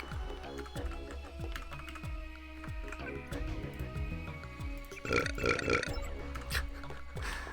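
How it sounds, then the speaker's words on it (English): A recorded burping sound effect plays in the Deus Ex game, several short belches over steady keyboard typing and clicking, with a louder burst near the end. "I love the burping sound she recorded for it."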